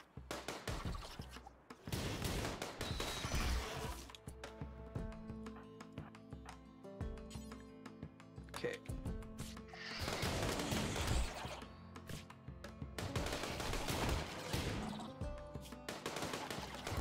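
Colonists firing guns during a RimWorld battle, repeated bursts of rapid gunfire that come and go in dense clusters across the stretch, fairly loud over a busy game soundscape.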